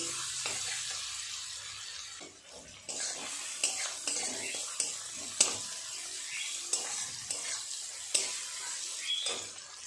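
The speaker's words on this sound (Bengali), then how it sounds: "লাল করে পেঁয়াজটাকে ভেজে নেব" Onions frying in a pan until browned, a soft ongoing sizzle broken by repeated scraping stirs and sharp clinks of a spatula against the metal.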